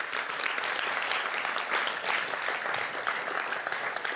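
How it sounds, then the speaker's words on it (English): Conference audience applauding at a quantum light and matter workshop, a dense, continuous wash of clapping from a room full of people, even and sustained throughout. "ask you for a round of applause for everyone for who made this conference happen"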